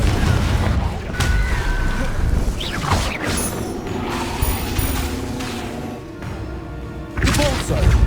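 The Confringo blasting spell goes off in Hogwarts Legacy with booming, crashing impacts and mechanical clatter, punctuated by sharper whooshes and thuds throughout a loud, busy stretch.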